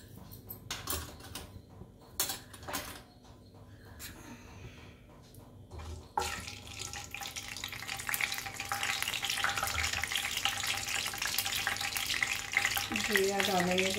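Mustard seeds go into oil that has not fully heated for a tomato pickle. Quiet handling and brief knocks come first, then a steady sizzle rises and continues to the end.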